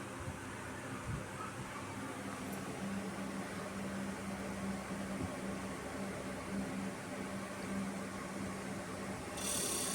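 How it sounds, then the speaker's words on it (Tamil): A Toshiba inverter fridge compressor starts and then runs on the repair bench with a steady low hum and a droning mechanical whir, heard close and alone for the whole stretch. "கம்ப்ரஸர் ஸ்டார்ட் ஆகிடுச்சு பார்த்தீங்களா."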